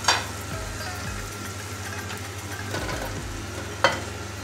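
Onions fry in a pan with a continuous hiss and sizzle, broken by occasional scraping stirs and one sharp clink near the end; there is no talking.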